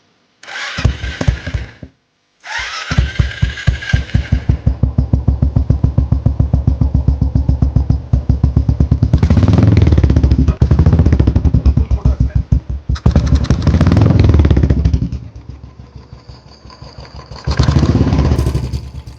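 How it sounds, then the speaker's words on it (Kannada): A completed Royal Enfield Thunderbird 2009 race motorcycle, readied for racing, starts up and revs loudly up close, with a brief cutout after the first burst, then a staccato thumping exhaust note, rising and falling revs and sharp blips toward the end. "ಸೊ ಎಕ್ಸಾಸ್ಟ್ ನೋಟು ಕೇಳ್ಕೊಳೋಣ ಬನ್ನಿ"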